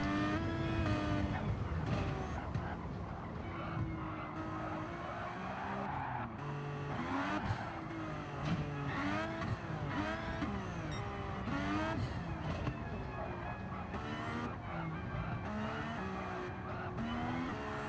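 Race cars in a GTO time-trial racing video game drift with continuous tire squeal and skidding over roaring, shifting engine tones. The sound is dense and loud throughout, with no speech.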